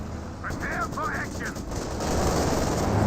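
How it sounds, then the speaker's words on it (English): Aircraft strafing-run gunfire in the World War II strategy game Company of Heroes 2: a dense, sustained crackle of rapid automatic fire, loud and continuous, with a few brief tonal voice-like bursts early on and the firing swelling toward the end. "Looks like a strafing run trying to hit the Volks Grenadiers."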